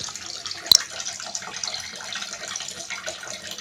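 Fish being washed under a running tap, a steady splashing stream of water with one sharp knock near the start, fairly close and with no speech.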